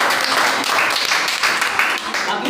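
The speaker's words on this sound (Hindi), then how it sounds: "जो ताली बजाइए इनके लिए।" Audience applauding a student contestant at a school quiz show, a steady wash of clapping that holds for the whole stretch, loud and near, with no pauses.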